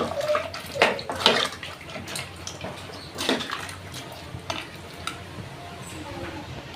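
Water is poured into a pot of goat head curry cooked Konaseema style, giving soft splashing and gurgling with a few louder sloshes over a faint bubbling background.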